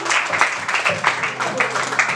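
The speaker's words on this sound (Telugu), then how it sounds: "అందరూ ఒకసారి గట్టిగా చప్పట్లు కొడుతూ ఉంటాము" Children clap their hands together in a steady, rhythmic beat, each clap close and sharp, with voices mixed in among the claps.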